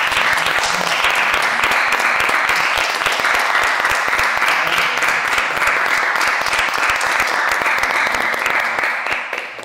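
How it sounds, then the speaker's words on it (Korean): A church congregation gives loud, sustained applause after a prayer, dense clapping from many hands that continues steadily and begins to fade at the very end. "오늘 우리의 기도를 들어주신 하나님께 영광의 박수를 올려드리겠습니다"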